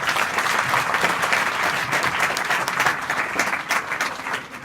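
Sustained, loud, dense applause from an audience of schoolgirls at a school education programme, steady clapping for nearly five seconds with no talk.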